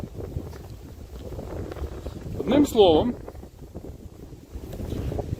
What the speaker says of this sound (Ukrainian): і тут вітерець, я просто думаю, вже де би так сховатися, щоб було і річку видно, і без вітру було.